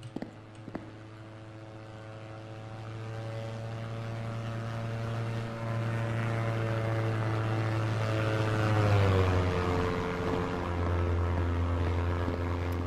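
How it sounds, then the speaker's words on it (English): A propeller airplane passes by in a Unity game scene. Its steady droning hum swells and then drops in pitch as it goes past, with reverb added. It sounds moderately loud and continuous, with no talking. "when the plane passes us, we'll also be hearing the reverb included with that"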